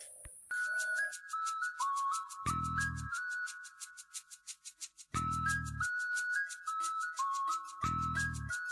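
A mobile phone rings with an incoming call: a bright, looping electronic melody plays over and over, with short low buzzing pulses between phrases, steady and fairly close.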